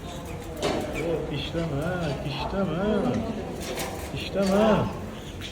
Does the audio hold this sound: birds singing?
yes